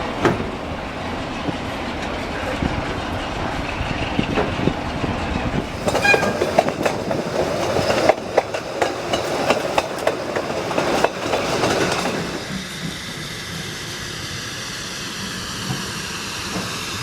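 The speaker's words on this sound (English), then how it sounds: "Let's get on the train again." Train travelling on rails near Bury, a loud close rumble of wheels with rhythmic clickety-clack bursts and rattling, easing into a quieter steady hum near the end.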